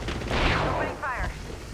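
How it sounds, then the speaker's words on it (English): Gunfire in the video game Apex Legends: a short burst of sharp shots and mechanical clatter over a brief span, moderately loud with game effects mixed in. "Taking fire. Getting shot at."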